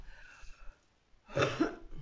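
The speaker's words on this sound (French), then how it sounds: "j'ai encore la toux" A single burst of coughing, close and fairly loud, after a quiet stretch of faint background noise.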